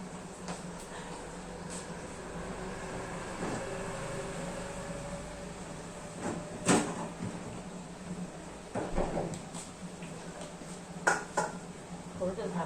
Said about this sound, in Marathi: आता थोडंसं त्याच्यावरती झाकण ठेवते.